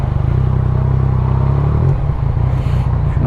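Yamaha MT-09 motorcycle fitted with a loud aftermarket exhaust, idling close by with a steady, deep rumbling burble that grows slightly rougher partway through.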